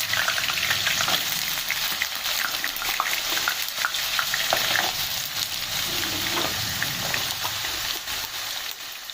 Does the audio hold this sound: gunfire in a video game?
no